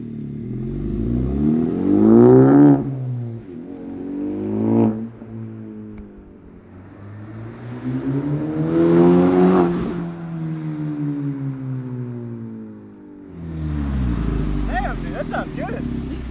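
A 10th-generation Honda Civic Type R fitted with an AWE Touring exhaust revs repeatedly, engine notes rising and falling in several long sweeps, close and loud, with people talking over the revs.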